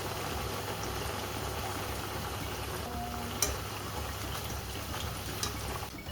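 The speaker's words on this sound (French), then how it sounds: "vous préparez une casserole avec de l'huile chaude et vous venez déposer vos chips" Steady, dense sizzling and crackling of sweet potato chips frying in hot oil in a pan, continuous throughout with a few small pops.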